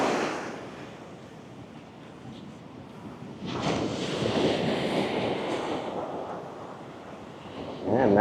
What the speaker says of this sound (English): The waves are so big.